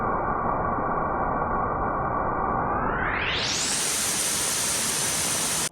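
A waterfall beside a hiking trail pours as a steady unbroken roar of rushing water. It sounds muffled at first, then turns suddenly brighter and fuller, and no one speaks.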